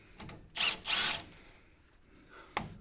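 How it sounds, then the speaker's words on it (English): Impact wrench loosening a bolt in a garage, two loud, close rattling bursts in quick succession followed by a quieter gap and a short final clack. "The impact wrench made short work of that."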